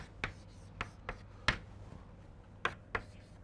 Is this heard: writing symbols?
yes